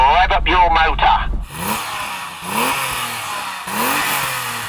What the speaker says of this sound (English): so go on then Tony, rev up your motor.